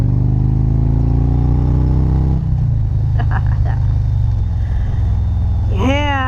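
Motorcycle engine running steadily on an open road in summer, a loud continuous drone that shifts pitch partway through, with wind rush and a rider's voice talking over it near the end.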